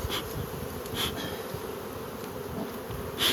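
Honey bees buzz in a steady, dense drone around an opened beehive during hive relocation work in November, close and continuous throughout with no voices.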